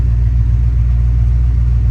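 A 1979 Porsche 928 engine idling after a cold start, a constant deep, loud rumble held steady without revving, with no talk over it.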